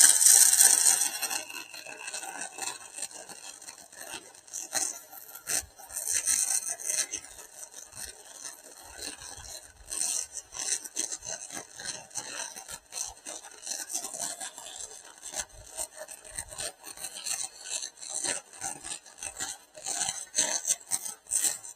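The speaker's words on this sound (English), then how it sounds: "Okay, let's get this side over here welded." Wire-feed welder welding a metal bench, giving a continuous crackling, sizzling hiss with uneven spits and pops, moderately loud and close, with no talking.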